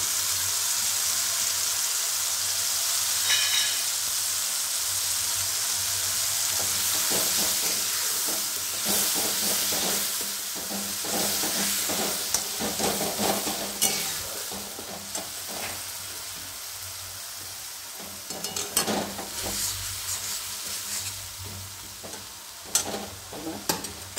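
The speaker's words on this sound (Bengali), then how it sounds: "এবার আমি তেজপাতাটা দিয়ে দিচ্ছি, আর দিচ্ছি ধনে জিরে গুঁড়ো" Bay leaf with ground coriander and cumin frying in hot oil for a Bengali green peas malai, giving a steady close sizzle and hiss with scattered stirring clicks and scrapes, no voices.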